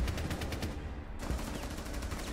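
Gunfire in the tactical shooter Rainbow Six Siege, with rapid bursts of shots in a dense, loud stream that drops out briefly partway through, then resumes.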